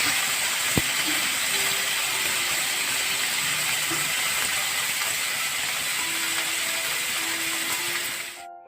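Small fish sizzling as they fry in smoking-hot mustard oil in a wok, a dense, steady crackling hiss that holds at an even level throughout, with no talk over it.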